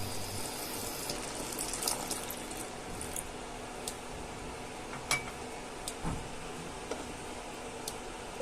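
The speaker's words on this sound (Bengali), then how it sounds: "সবকিছু মিক্স করে নেওয়ার পরে 1 কাপের মতন জল দিয়ে দেবেন।" About a cup of water is poured into a chicken soup mix, giving a faint, soft trickle and splash with a few light clinks scattered through it.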